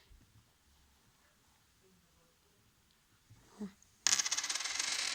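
Coins from a collection, including a German 10 pfennig piece, handled and dropped near a microphone in a quiet room: a faint rustle, then a sharp cluster of bright metallic jingling clinks that rattle on for about a second.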